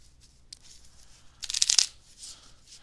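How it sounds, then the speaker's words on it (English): A deck of playing cards being shuffled by hand during a sleight-of-hand magic stream: a few faint flicks, then one brisk riffle burst of rapid fluttering clicks, close and alone. "we're going to go ahead and shuffle the rest of these cards here"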